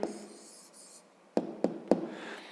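A pen writes an answer by hand to a fifth-grade maths exercise, with faint scratching followed by three sharp taps of the pen against paper, close and quiet.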